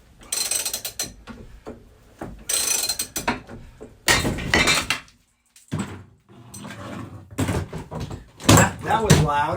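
Brittle cast iron pipe cracks under stress with loud, sharp mechanical snaps and ratcheting clicks, several bursts spread over the clip, mixed with talking voices nearby.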